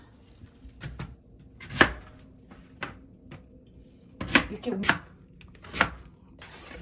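Several sharp knife chops slicing radish on a cutting board, irregularly spaced, close and fairly quiet, with a brief voice among them.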